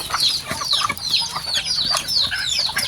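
Bulik roosters and hens cluck in repeated short bursts, close and fairly loud, with a steady farmyard rhythm of calls roughly twice a second.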